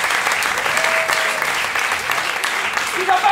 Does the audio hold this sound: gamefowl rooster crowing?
no